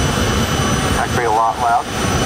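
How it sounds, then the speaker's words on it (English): Loud continuous roar of a rocket truck's J60-8 jet turbine engine spooling up at a high school drag racing event, a steady broadband rush with a voice speaking briefly over it midway. "Oh, I hear it firing up. Turbine is on."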